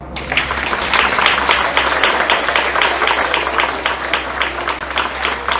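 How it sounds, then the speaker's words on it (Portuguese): Schoolchildren and adults clap after an earthquake drill at a school, loud rhythmic applause that settles into a fairly regular, almost synchronized beat with a low hum underneath. "Palmas para vocês."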